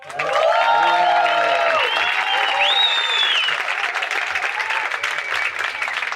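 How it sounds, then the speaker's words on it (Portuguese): Sustained applause fills a bookstore as an audience claps for Sidarta Ribeiro, loud and dense throughout, with a few voices and cheers mixed into the steady clapping. "Aplausos para o Siddhartha."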